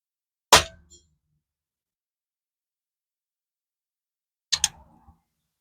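Two sharp metallic clangs of air rifle pellets striking a steel bell target about 45 yards off in a backyard, each a quick bright hit with a short ringing tail, about four seconds apart in silence.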